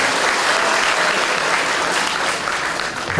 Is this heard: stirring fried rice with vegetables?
no